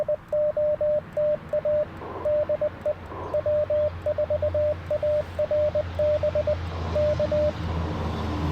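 Morse code sent from a memory keyer, a steady run of short and long pure beeping tones in rapid rhythmic groups, clear and prominent over a low rumbling background.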